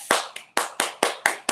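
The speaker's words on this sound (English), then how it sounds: "Clapping it up for Clem right now." Hands clap seven times in quick, slightly uneven succession, each slap sharp and close with a short decay, alone without any talk.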